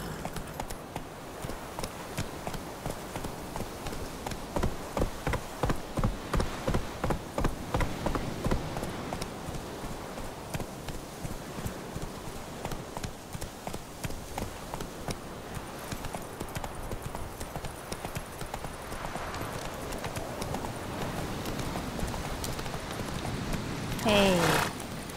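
Hooves of Roach, the horse in The Witcher 3: Wild Hunt, clip-clop in a steady trotting rhythm along a road, with a person talking over much of it.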